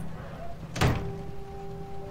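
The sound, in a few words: door as someone walks out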